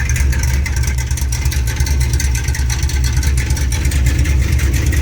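A 1970 Dodge Charger with a 383 engine idles while warming up on a nice day in Kansas, a steady, loud low rumble that stays even throughout with no clear revs.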